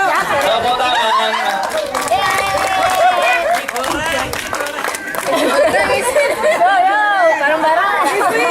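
Scattered hand clapping at a Syawalan community gathering in the Perum Villa Banguntapan housing estate, mixed into dense, lively crowd chatter with many voices talking over it throughout.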